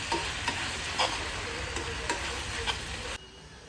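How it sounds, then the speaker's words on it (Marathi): Coriander seeds roast in a pan with a dry, steady sizzle, broken by several scraping stirs, before the sound cuts off abruptly near the end. "आता यामध्ये मी 2 चमचे धणे टाकते, आणि धणे पण छान भाजून घ्यायचे आपल्याला यामध्ये."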